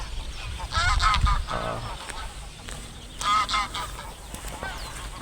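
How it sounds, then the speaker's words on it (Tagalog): Wild ducks honk and call in a flock outdoors, with loud, nasal bursts coming in two main clusters over a few seconds against background ambience. "ang daming mga wild duck"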